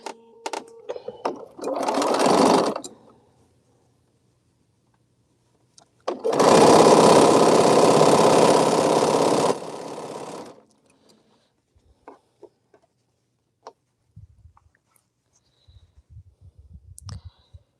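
A sewing machine stitches quilt fabric in two loud bursts, one about two seconds and a longer run of about four seconds, close by, with quiet clicks and handling noises between and after.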